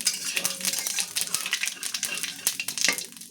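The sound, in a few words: cumin seeds frying in oil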